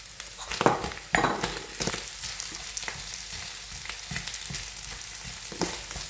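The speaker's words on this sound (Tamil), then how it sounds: "இப்போ இதில் போட்டு நல்லா கலந்து விடுவோம்" Fish cutlet mixture sizzling in a frying pan with a spoon scraping and stirring, a few louder clanks early on, steady and close with no talking.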